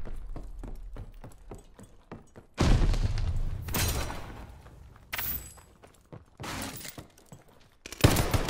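Grenade blasts in the Call of Duty: Vanguard video game, Champion Hill mode: several loud, sharp explosive bursts with crackling debris, each separated by quieter stretches of distant gunfire.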